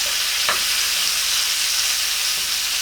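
A rib steak sizzles steadily in a blackened pan while being basted, with a constant close frying hiss and a faint clink or two of the spoon, and no talking.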